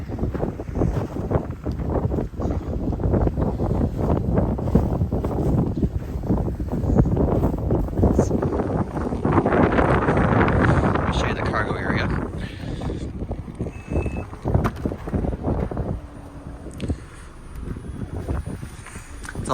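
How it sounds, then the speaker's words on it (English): Wind gusts rumble across the microphone outdoors beside a 2023 Mazda CX-50 Turbo Premium Plus, a loud, continuous low buffeting that swells midway and eases toward the end. "It's a little windy"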